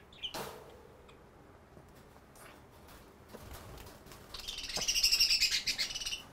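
A parrot gives a quick run of bright, high chirps near the end, close and fairly loud after a quiet stretch with a few faint scattered sounds.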